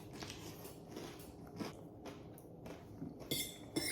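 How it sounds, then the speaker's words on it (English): Someone bites into and eats a soft-boiled egg close by, with soft wet chewing and a few light clinks of cutlery or a dish, and a sharper tap near the end. "Comment below if you can eat an egg like this."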